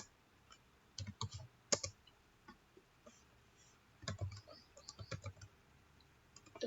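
Clicks and taps from a computer keyboard come in short bursts and scattered single keystrokes, quiet and close, with pauses between groups.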